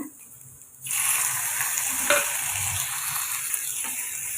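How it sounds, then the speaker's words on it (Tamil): Oil suddenly starts sizzling as tomato hits a hot pan with onion, ginger and curry leaves, then keeps up a steady, close crackling fry with faint stirring clicks. "இப்போ இதை நம்ம லைட்டாக வதக்கி எடுத்துக்கோங்க"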